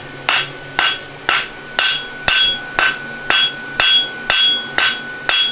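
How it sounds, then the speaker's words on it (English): A rounding hammer rings against a horseshoe on an anvil during farrier shoemaking, about ten loud, evenly spaced metallic strikes, each with a bright ringing decay. "Using the side of his hammer"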